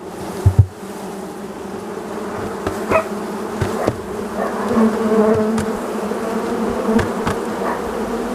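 A steady, loud hum of many honey bees buzzing together at a hive, with a few sharp knocks near the start and occasional louder passes.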